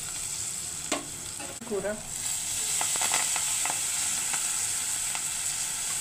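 Fenugreek leaves sizzle and fry steadily in hot oil with fenugreek seeds, cumin, turmeric and green chilli for an egg curry, a continuous close crackle with a few stirring clinks and a brief spoken word early on.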